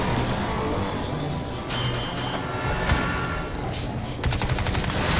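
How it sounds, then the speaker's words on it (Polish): Rapid automatic gunfire from the video game Crysis 2 rattles in loud, dense bursts throughout, with a heavier volley near the end and no voices. "Strzelają!"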